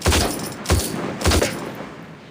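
Gunfire from a 200-round gun in the VR zombie shooter World War Z, with three loud bursts of rapid shots in a steady rhythm, close and punchy, each fading quickly.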